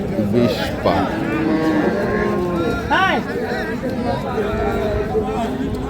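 Dairy cows and calves of Sahiwal, Sindhi and local breeds at a livestock market: several close, drawn-out moos rise over a constant crowd murmur and people talking nearby.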